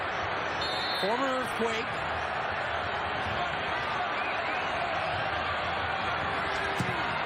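A hometown stadium crowd at a California soccer match sends up a steady, broad roar, with a commentator talking over the noise.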